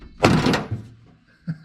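A big flat screwdriver pops a clip off the passenger door of a 1980 Camaro: one sharp loud crack and clatter, then a couple of softer knocks and thuds, with no voices.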